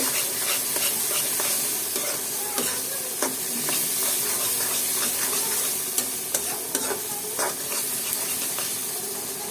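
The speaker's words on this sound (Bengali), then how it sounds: "এবার এগুলো ভালোভাবে মশলা পেঁয়াজ একসাথে কষাতে হবে" Spices, chilies and onion are stir-fried together in a pan for a dried fish dish, giving a loud, steady sizzle and hiss with frequent scraping and clacking stirs and no voices.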